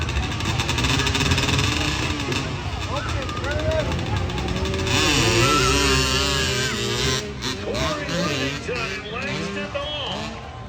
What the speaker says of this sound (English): the 16 and up motocross class is on track right now